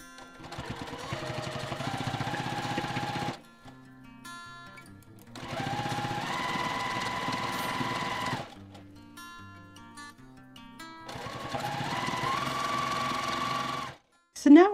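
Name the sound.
sewing machine sewing binding onto a quilt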